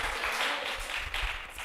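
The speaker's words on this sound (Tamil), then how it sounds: "அவங்க கைத்தட்டு கொடுங்க" An audience in a church claps for a pastor, a short continuous patter of applause throughout.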